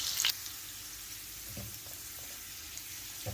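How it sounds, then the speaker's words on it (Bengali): Garlic frying in oil in a pan for a fish curry: a soft, steady close-up sizzle with a brief clatter at the start and faint stirring ticks. "এখন দিয়ে দিলাম আমি রসুন"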